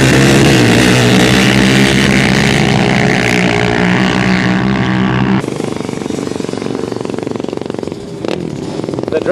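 A drag racing motorcycle at a Presidents Day Sunday drag strip event roars loudly with a sustained, rough engine drone, then cuts to a thinner, more distant rumble with a brief sharp burst near the end.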